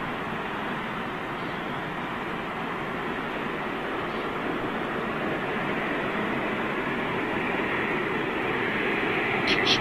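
Broad steady jet engine roar from a Boeing Dreamliner at London Heathrow Airport, a dense continuous rumble that holds level and swells slightly toward the end, heard alone without talk.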